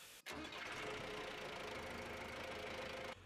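A yellow-hooded tractor engine runs in a pasture, cutting in after a brief knock and then holding a steady, rough, close-up rumble for a few seconds.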